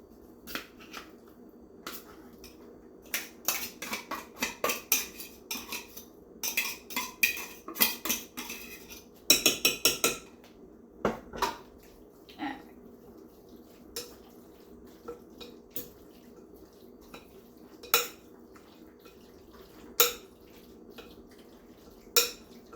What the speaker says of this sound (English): Just mixing this up, blending it really good.